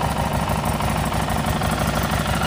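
A 2018 Harley-Davidson Street 500 XG500 motorcycle engine idles steadily up close, a continuous low, even rumble with fine rapid pulsing and no other sounds.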